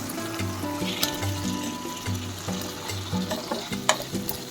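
Fried potato and pointed gourd pieces tumble into a pan of sizzling spice paste for a Bengali vegetarian curry, a steady frying hiss under repeated scraping stir strokes, close and moderately loud, with no talking.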